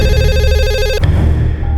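A telephone rings loudly and up close in a repeating electronic warble for about a second, then cuts off abruptly, leaving low room noise.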